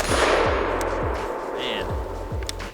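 An IWI Galil ACE pistol with an 8.3-inch barrel fires 5.56 rounds: about six loud sharp reports at a steady half-second pace, each with a short booming decay.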